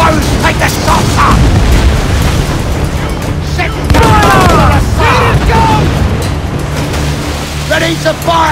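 Ship cannons fire in the video game Assassin's Creed IV Black Flag: heavy booms come over a constant roar of sea and wind, with shouting voices mixed in throughout.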